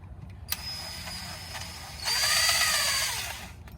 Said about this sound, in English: Just put it on the drill.